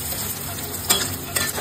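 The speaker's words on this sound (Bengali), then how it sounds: "ভালো করে ভেজে নিচ্ছি" Whole black pepper, cashews and coriander seeds frying in oil with onion in a pan: a continuous close sizzle broken by two quick spatula scrapes.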